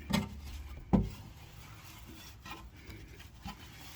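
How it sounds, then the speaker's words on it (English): Close, brief rubbing swipes as a rag wipes oil off a leaking oil filter on a Cadillac CT6, with a couple of firmer strokes and no talking. "So I'm gonna wipe it off, clean it up a little bit"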